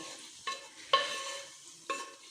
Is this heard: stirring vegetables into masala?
yes